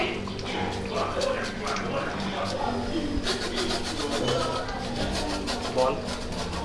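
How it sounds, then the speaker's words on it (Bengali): Gondhoraj lemon peel is grated over cooked chicken, a series of short scraping rasps repeating in bursts, close and fairly quiet, with kitchen background noise around them. "মাংস হয়ে গেছে, এখন গন্ধরাজ লেবু ঘষে দিব"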